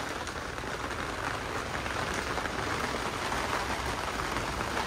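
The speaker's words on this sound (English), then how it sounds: "Look at it rain." Steady rain falling outdoors, an even hiss of drops on surfaces that holds at a constant moderate level throughout with no voices.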